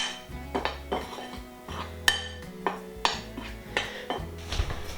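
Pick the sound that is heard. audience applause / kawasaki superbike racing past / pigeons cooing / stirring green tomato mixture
stirring green tomato mixture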